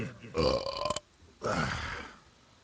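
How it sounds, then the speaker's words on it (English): Two loud, close burps, the first short and rough, the second longer and drawn out, separated by a brief pause. "I wish I could burp like you."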